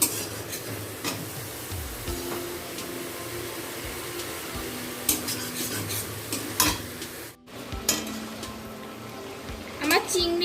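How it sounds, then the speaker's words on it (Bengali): Thick spice paste for a prawn and poppy-seed curry is stir-fried in a pan, with steady scraping and stirring under a soft sizzle. Some clinks of utensil on metal come through, and a voice talks over it at times. "এবার মশলাটা ভালোভাবে কষে নেব"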